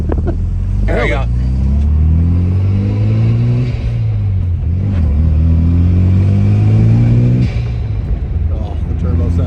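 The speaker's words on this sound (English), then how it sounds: "Oh, the turbo sounds so good" A turbocharged car engine revs and climbs in pitch, settling and rising again in steady pulls, loud and close, with people talking over it.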